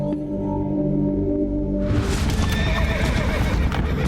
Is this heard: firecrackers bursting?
no